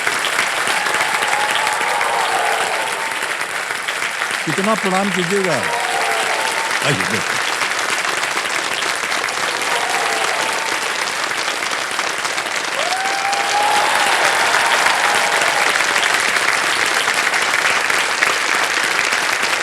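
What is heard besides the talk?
studio audience applause on KBC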